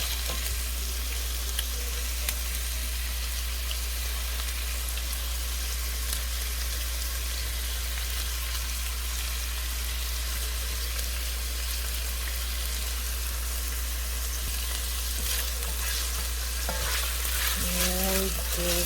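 Ingredients for smothered pork chops fry in a pan, giving a steady, loud, close sizzle that runs unbroken, with faint stirring or clinks near the end and no talking.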